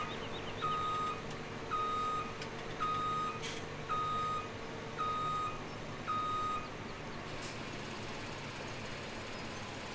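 A custom road train truck in Farming Simulator 17 backs up, its reversing alarm beeping six times in an even rhythm over a steady low engine drone, with no talk.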